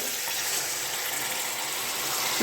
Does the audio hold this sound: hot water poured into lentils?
yes